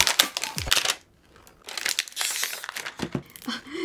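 A glittery toy box is handled and opened, with close, crinkly rustling of packaging in bursts, a short pause around one second, then more crackling and scraping.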